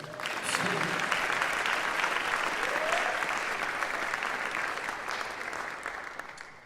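Audience at a jazz ensemble concert with a guest artist claps loudly and steadily, a dense wash of applause that fades slightly toward the end.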